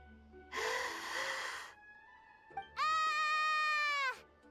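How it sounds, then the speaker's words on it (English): A video game character yawns: first an airy inhaling gasp, then a long tonal, stretched exhale like a cartoonish yawn, close and fairly loud. "Oh, she's gonna yawn."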